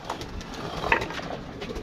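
Caged pigeons give soft, low coos and rustle nearby, with a brief brighter call near the middle and steady low background murmur.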